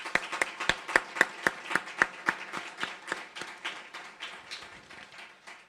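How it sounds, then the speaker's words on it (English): A small audience applauds at a West Texas A&M University fundraising campaign announcement, a handful of sharp, distinct claps in a steady rhythm that thin out and fade over several seconds. "Give yourselves a round of applause."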